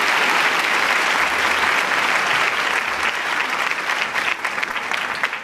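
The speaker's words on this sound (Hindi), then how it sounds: "आप सभी तालियां बजाकर उनका स्वागत कीजिए" An audience at a college event claps steadily to welcome a visiting education minister. The dense, loud applause fills the room throughout and tapers only slightly toward the end.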